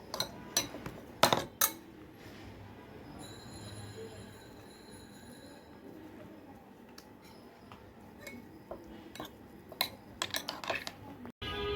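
A spoon mixes vegetable raita seasoned with black salt in a bowl, giving scattered sharp clinks and scrapes against the bowl with a thin metallic squeal in between, fairly close and without talk.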